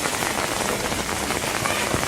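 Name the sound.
rain falling during Cyclone Burevi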